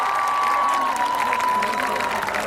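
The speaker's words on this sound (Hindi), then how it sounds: "फरहाद भाई के लिए तालियां बजा दीजिए प्लीज" Applause from a mushaira poetry-gathering audience for the poet Farhad Bhai, a steady dense wash of clapping with crowd noise and a faint sustained tone running through it.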